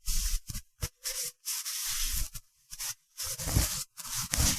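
A cloth wipes the handlebar of a 2020–2021 Kawasaki Ninja 1000SX, producing close, soft rubbing strokes in short bursts separated by brief pauses.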